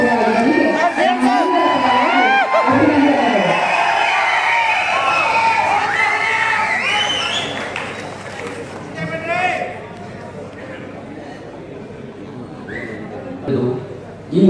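An award-ceremony crowd applauds and cheers for an honoree, loud sustained clapping with shouts that swells at first, then thins and fades toward the end as someone talks.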